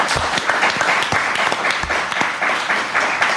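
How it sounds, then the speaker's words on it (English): A brief burst of audience applause for podcast guests, dense clapping from a small crowd at close range lasting a few seconds. "Ladies and gentlemen, please give these folks a round of applause."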